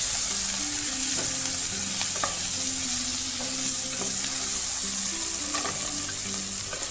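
Onion and capsicum stir-fried in a pan for paneer chilli: a steady, close sizzle runs throughout, broken by repeated scraping stirs of a spoon against the pan, with no talking.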